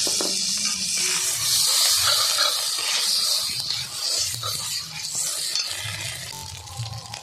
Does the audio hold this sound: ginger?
yes